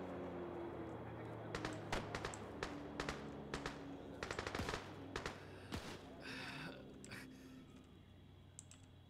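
Faint bursts of rapid gunfire in Arma 3, a WWII Pacific campaign beach invasion, crackle at a distance over a low steady hum, with short volleys spaced irregularly throughout.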